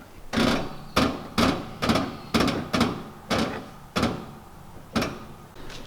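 The steel bonnet of a Holden HQ fitted with a Barra engine is pushed down repeatedly until it latches, giving about nine heavy, hollow thuds at uneven intervals. The sound is close and clear, with no talk.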